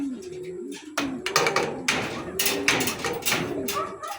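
Racing pigeons on a training flight at the loft coo repeatedly in close, rising and falling calls, mixed with soft wing claps and thumps and a person talking nearby.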